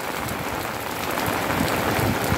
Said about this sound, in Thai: วันนี้ฝนตกผมเลยพามาดูโคโลคาเซีย